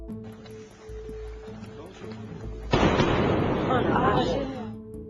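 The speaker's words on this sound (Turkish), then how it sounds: "Concorde'un çıkardığı sesler arasında en korkunç olanı sonik patlamalardı" A sudden deep sonic boom from a Concorde bursts in and rolls on for about two seconds before fading, following a quieter stretch with a low hum.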